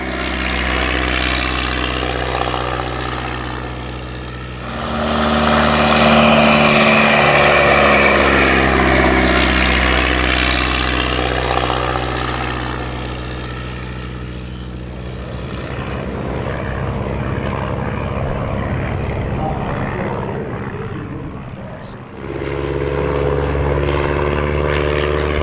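A Pfalz D.III WW1 fighter replica, built in 1966, runs its aircraft engine with a loud, sustained propeller drone that swells and eases as it passes, dips briefly near the end, then returns strong, with no voices.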